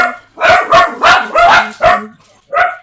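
Dogs barking indoors, six loud, close barks in quick succession, the last one after a short pause, with no talk.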